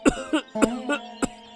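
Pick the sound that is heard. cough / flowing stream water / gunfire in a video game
cough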